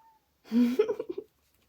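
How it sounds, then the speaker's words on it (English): A single drawn-out meow from a cat at the door, rising and then wavering, close by in an otherwise quiet room. "Oh, my cat's at the door."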